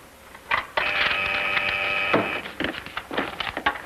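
A telephone rings in a 1941 radio mystery drama: one sustained, bright electric bell ring lasting over a second, followed by clicks and handling noises as the receiver is picked up.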